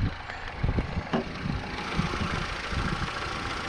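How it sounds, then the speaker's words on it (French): A Peugeot RCZ with the 1.6 THP petrol engine runs steadily at idle close by, with a few brief bursts of revving near the start before it settles into an even low hum. "Je vais vous montrer un coup de moteur."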